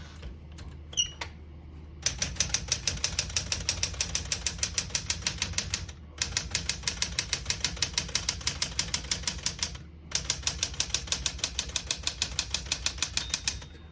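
Rapid, steady clacking of a 1974 Smith-Corona Galaxie 12 manual portable typewriter, keys striking in fast rhythmic bursts with brief pauses between runs, close up and clear.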